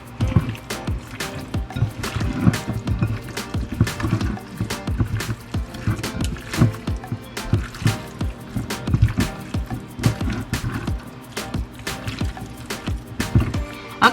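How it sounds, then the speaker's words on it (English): Hands work seasonings into raw chicken with repeated wet squelching and slapping squishes in an irregular rhythm, close and fairly quiet throughout, with no talking. "So now you want to mix this into your chicken."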